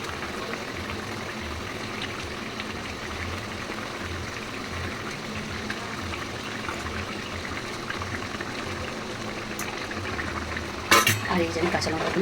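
Tangra fish dropped one by one into hot oil, giving a steady broad sizzle of frying that runs throughout, with a brief sharp clatter of a utensil near the end.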